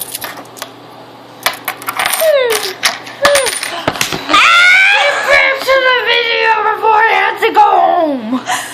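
Coins clatter and tinkle onto a floor in a burst of small metallic hits, while excited high-pitched voices and squeals rise loudly over them.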